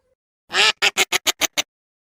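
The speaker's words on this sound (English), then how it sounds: "a little family of ducks doing duck things" Ducks from a small family group in a flooded field: one drawn-out quack followed by a rapid string of six short, evenly spaced quacks, clear and fairly close against silence.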